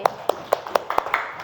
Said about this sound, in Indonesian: Tepuk tangan dulu untuk Ferdi.